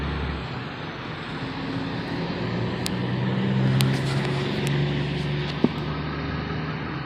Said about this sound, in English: It's a good sounding truck.